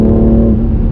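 A BMW M2 Competition pulls hard on a highway, its engine giving a loud, steady low drone with a sustained tone, close-up from inside the cabin and with no voices.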